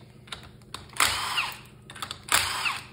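Power tool spinning out engine head bolts on a Rhino 2 junior racing kart engine, two short, loud bursts of whirring and rattling about a second apart.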